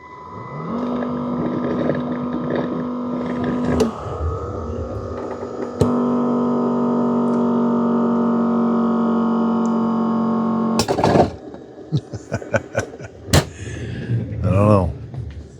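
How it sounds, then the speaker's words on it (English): A Dreame Matrix 10 Ultra robot mop spins its mop pads with a loud, steady electric motor whine and hum that shifts pitch a few times, then gives way to clicks and brief noises. "There it's spinning the mop pads."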